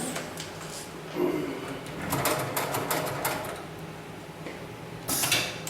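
A heavy-duty sewing machine stitches a harness in short whirring bursts of rapid needle clatter, separated by brief pauses and mechanical clicks, close and clear with no talking.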